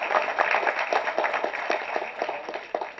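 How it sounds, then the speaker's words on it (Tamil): Applause at a Tamil movie audio launch rings out with distinct individual claps in an uneven rhythm, fairly close and moderately loud, from a modest crowd. "அவருக்கு ஒரு நல்ல கைத்தட்டு."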